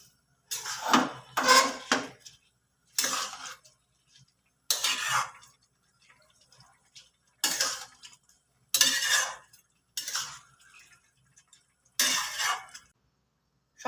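Spoon scrapes and clatters around a metal pot as chicken, rice and seasoning for chicken pulao are mixed over a high gas flame, in short, loud bursts separated by silent pauses.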